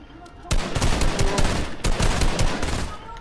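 Rapid gunfire from a Fortnite match, with bursts of close, loud shots starting after a brief quiet moment and continuing in dense volleys, pausing once before another string of shots.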